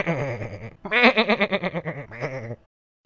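A goat in a video game gives a long, wavering bleat in several pulsing phrases, loud and close, then falls silent.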